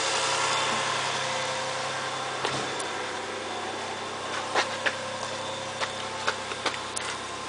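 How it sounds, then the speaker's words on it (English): A Toyota Harrier, a Japanese used car, idles with a steady, smooth engine hum heard close and continuous, with a few light clicks and taps rising over it toward the end. "Let's take a look at the engine. Very smooth."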